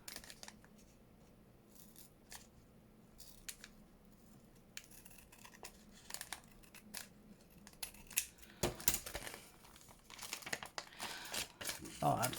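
Scissors snip and cut through paper while decorating window envelopes for a junk journal, close-up crinkles and sharp snips growing busier toward the end over a quiet room.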